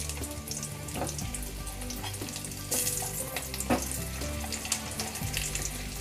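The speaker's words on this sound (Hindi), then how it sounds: "अब जो आलू हमने बॉईल करके रखे हैं वो इसमें ऐड कर देंगे सारे आलू, और इसको गोल्डन ब्राउन होने तक हमें फ्राई करना है।" Boiled potatoes frying in hot oil until golden brown for dum aloo, giving a steady sizzle with stirring clatter throughout, close and continuous, with no talk.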